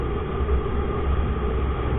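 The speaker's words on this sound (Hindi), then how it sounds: "तो गाइस हम लोग पहुँच चुके हैं चारबाग रेलवे स्टेशन लखनऊ का।" Trains rumble steadily at Charbagh railway station in Lucknow, a continuous low, dense roar of rail traffic with no pauses, captured at night.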